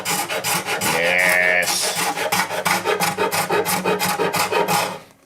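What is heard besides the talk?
scraping veneer and glue off an acoustic guitar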